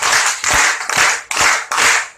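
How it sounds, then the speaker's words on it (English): An audience at a school debate claps in five rhythmic group bursts, each a dense burst of hands, evenly spaced and close. "Let's give her a 5 claps."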